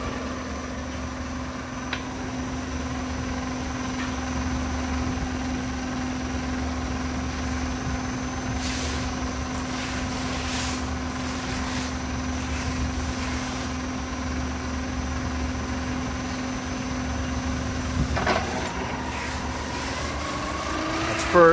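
Transmission spinning in reverse on a dyno, a steady, mid-level mechanical drone and hum that holds constant throughout, with a few faint clicks and a slight shift near the end, and no talk.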